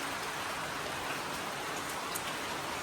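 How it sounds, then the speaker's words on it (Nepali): Sudden rain pours down in a steady, even hiss that fills the whole stretch, with no voices over it. "पानी पर्दैछ"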